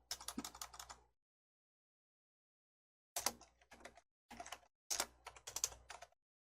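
Two bursts of keystrokes on a computer keyboard as a value is entered in a smartphone app coding lesson, a quick clatter, then silence, then several short rapid runs of taps, close and clear with no talking.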